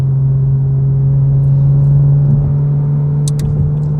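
A BMW M4 with the S55 engine and an aftermarket exhaust holds a steady, loud droning note for a few seconds, close by, with faint higher tones near the end.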